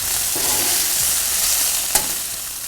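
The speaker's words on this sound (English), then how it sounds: "we're going to move this bacon over, because we're going to cook these hamburgers in the bacon fat" Beef bacon sizzles loudly on a hot Blackstone flat-top griddle in a dense, continuous hiss of rendering fat, close up, with one brief scrape near the end and no voices.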